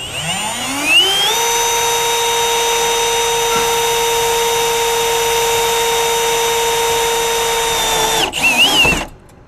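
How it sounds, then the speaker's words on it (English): A power drill bores through a tire carrier bracket and the door behind it on a GX470, spinning up and holding a loud, steady high whine for several seconds before winding down with a rattle. "we're gonna drill through the bracket and through the actual door itself behind it"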